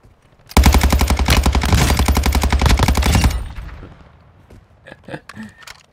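Sustained automatic gunfire in Call of Duty Warzone 2.0, a loud rapid burst lasting almost three seconds that then trails off into scattered clicks and faint movement.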